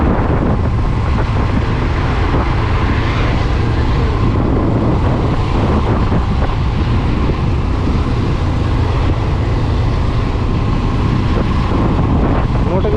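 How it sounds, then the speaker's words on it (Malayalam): Strong wind buffets a microphone outdoors at Vattappara, making a loud, continuous, roaring rumble that stays steady throughout and masks everything else. "നല്ല കാറ്റുണ്ട് കേട്ടോ."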